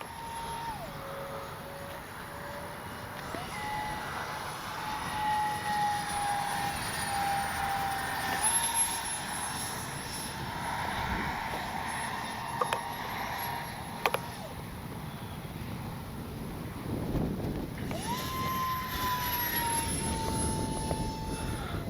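An X-FLY J-65 Twin 40 radio-controlled twin-engine jet passes overhead, its turbine whine rising and falling with distance as it makes flying passes, moderately faint throughout.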